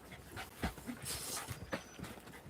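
A puppy pants in quick, close breaths mixed with soft whimpers, fairly faint against a quiet indoor background, with no speech.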